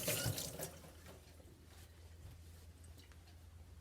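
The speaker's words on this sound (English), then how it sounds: "I'm going to have to wash my hands" Hands are washed under a running kitchen tap, a faint steady stream of water splashing in a sink, with no one speaking.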